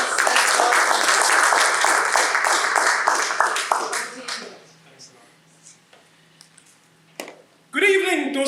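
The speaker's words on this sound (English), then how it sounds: "Put your hands together for our rock star Toastmaster." Audience applause at a Toastmasters club meeting as the Toastmaster is welcomed: dense, close clapping from a room of people for about four seconds, then fading to scattered claps and quiet before a voice begins.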